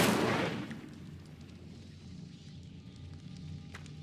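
In Hogwarts Legacy, the Incendio fire spell fires with a sharp burst that fades into a low crackling rumble, fairly quiet, with a few faint clicks after it.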